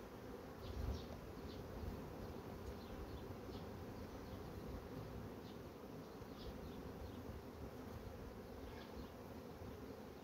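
Honeybees hum steadily around an open hive during a colony inspection, a soft continuous drone with faint individual buzzes flitting past and no voices.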